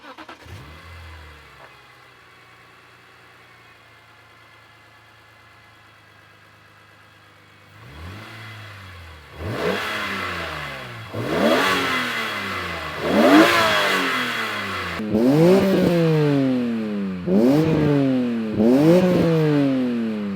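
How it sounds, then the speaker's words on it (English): A modified BMW Z3M sits quiet before its engine cranks and fires, then revs repeatedly, each sharp rise and fall louder and closer toward the end. "Start her up."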